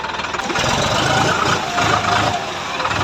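A tractor engine runs close by near a pond with a loud, steady diesel rumble and knocking idle that stays constant throughout.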